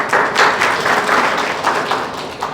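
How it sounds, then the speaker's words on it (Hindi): An audience at a Hindi talk event claps together, a steady wash of many hands lasting a few seconds at fairly loud level with no speech over it. "इनके लिए ताली बजाइए"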